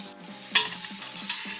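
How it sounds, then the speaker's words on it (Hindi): Chickpeas cooking with spice masala in a pan for chana masala, giving a soft steady sizzle broken by a few stirring scrapes and light clinks of a utensil against the pan, close and alone. "1 मिनट तक ऐसे ही पकने देना है चने को"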